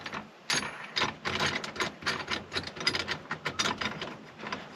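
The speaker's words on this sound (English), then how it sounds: "So then you thread this little tool on here." A small tool threaded onto the steering column center shaft of a 1991 GMC Sierra during a bearing replacement makes a rapid, close ratcheting clicking that runs steadily for several seconds.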